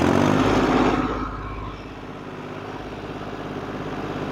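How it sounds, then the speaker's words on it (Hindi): A Solis 5515 tractor engine labours under load, its loud running note sagging after the first second as the revs drop, then holding a lower, steady drone without talk. "इसके भी आरपीएम ड्रॉप हो रहे हैं दोस्तों, अभी काफी आवाज ड्रॉप, आवाज दब रही है ट्रैक्टर की"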